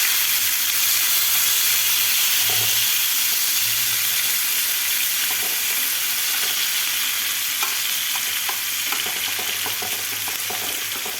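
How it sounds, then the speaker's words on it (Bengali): Onions frying and being stirred in a pan, with a loud, dense, continuous sizzle and hiss and repeated scraping stirs growing busier toward the end. "পেঁয়াজগুলো ভালো করে ভেজে নাড়াচাড়া করে নিতে হবে"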